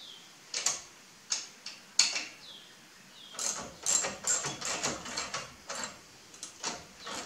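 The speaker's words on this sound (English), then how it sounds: "I'm gonna start snugging the bolts here." Ratchet tightening bolts on an Aries grill guard for a 2016 Ford Explorer, short bursts of rapid ticking clicks, sparse at first and then more continuous, close and fairly quiet.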